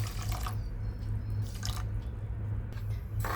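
Water drips and trickles into a kadai of sugar on a gas stove as syrup for kaju katli begins, a steady close pouring over a constant low stove hum.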